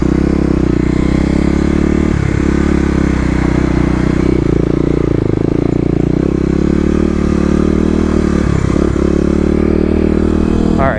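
A Kawasaki KLX250 motorcycle fitted with a 13-tooth sprocket rides across a parking lot, its engine a loud, steady, close drone with a few brief throttle changes and some clatter.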